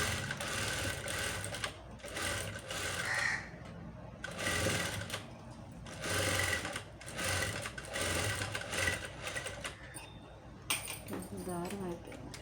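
Sewing machine stitching a blouse, running in several bursts of steady rapid whirring with short pauses between runs, with a voice talking over parts of it.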